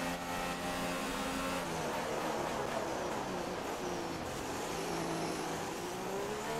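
An F1 race car engine in the F1 2016 game at Spielberg, overheated and running a standard fuel mix, whines loudly and continuously, its pitch shifting and sliding throughout.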